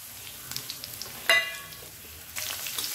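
Dried red chilies, curry leaves and spices sautéing in hot oil for a yam stir-fry, a soft steady sizzle with a brief sharp crackle partway through and light stirring scrapes.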